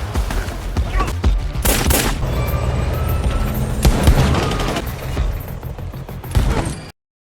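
Gunfire rings out during a violent fight scene in the film Project Power, with repeated sharp shots and bursts mixed with chaotic action sounds before the sound cuts off abruptly.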